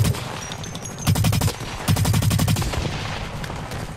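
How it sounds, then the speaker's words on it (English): Rapid automatic gunfire in the shooter game Blacklight Retribution, two loud sustained bursts of fast, evenly spaced shots separated by a brief pause, then fading. "I did not mean to fire the gun."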